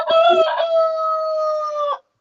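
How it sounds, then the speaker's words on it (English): A rooster on a farm crows once, a loud, close, sustained cock-a-doodle-doo with a stuttering start and a long held final note that cuts off cleanly, with no other sound around it. "And that rooster has a lot to say."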